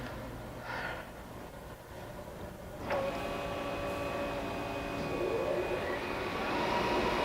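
A Kellenberger OD grinder with 13.8-inch swing and 40-inch centers drones steadily as its spindle moves back after an emergency stop. A sharp clunk comes near the start, then the machine hum continues under thin whining tones.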